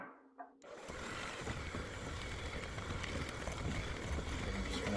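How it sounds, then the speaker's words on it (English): An electric mixer beats unsalted butter with white sugar for a cake. After a brief quiet moment it switches on to a steady close whirring drone that holds loud and even to the end. "just going to mix that all in together until it becomes fluffy"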